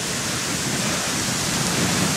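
Steady heavy rain driven by wind on a mountaintop by a summit gazebo among blooming cherry trees, a dense continuous hiss with low gusty rumble, loud and unbroken.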